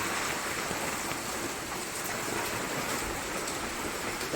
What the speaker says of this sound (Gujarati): આ જોઈ શકો તમે કેટલો વરસાદ પડે છે